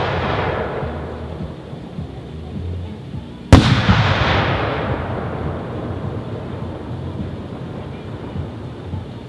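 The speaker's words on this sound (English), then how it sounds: "finally we'll finish up with a 6-inch Vulcan pixie dust willow on the 6s" A 6-inch Vulcan pixie dust willow firework shell bursts with one sharp, loud boom, followed by a long crackling, hissing trail that slowly fades over several seconds.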